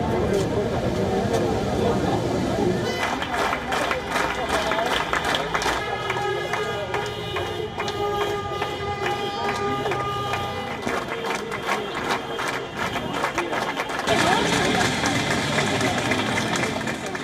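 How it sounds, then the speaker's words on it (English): Peace rally before the Russian embassy in Montevideo protesting the invasion of Ukraine: steady crowd roar with applause, sustained horn tones blaring through the middle stretch and chanting voices, loud and continuous throughout. "The protesters marked the rally with applause, horns and chants for peace before the Russian embassy in Montevideo"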